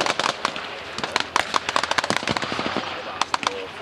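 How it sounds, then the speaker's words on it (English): Rifle fire from German trench soldiers at a WWII battle reenactment cracks out in dense, irregular volleys of sharp reports, some nearer and louder, with faint voices underneath. "You see the German trenchmen firing now,"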